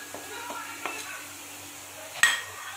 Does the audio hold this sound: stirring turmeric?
yes